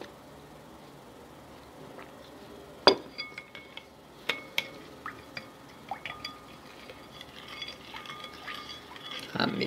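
Spoon stirring a gummy candy mixture in a pot, giving quiet swirling under a steady background with a string of distinct clinks and taps against the pot's sides, one louder knock early on.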